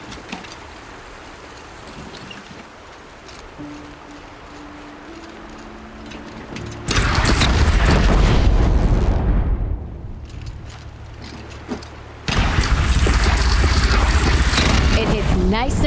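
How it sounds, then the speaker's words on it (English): Cannon fire in the video game Horizon Zero Dawn: two loud, broadband blasts with rumbling sustain, each lasting several seconds, following a quieter stretch of background game ambience with a low drone. "Cannons have aged well, but I've cleared their throats so they can really roar."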